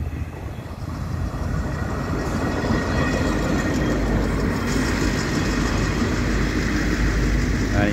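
A Doodlebug rail motor train rumbles through a station in Australia, a broad, steady rolling roar and engine drone that builds over the first second and then holds loud and close.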